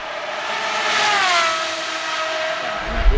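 A loud AMG-built V12 supercar engine revs hard, rising to a screaming high-pitched roar before easing off, with a brief thump at the end.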